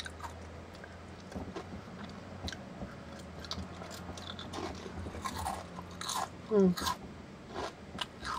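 A fried chicken flavour potato snack is crunched and chewed close to the mic, with repeated crisp bites and a louder crunch near the end, under brief soft murmuring.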